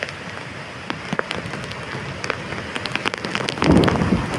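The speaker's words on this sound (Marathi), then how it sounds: "भन्नाट पाऊस चालू झालेला आहे." Heavy first monsoon rain pours down in Kalvi Bandar village, Vengurla, in Konkan: a dense, close patter of drops on surfaces with scattered louder splashes and a surge of intensity near the end, with no voices.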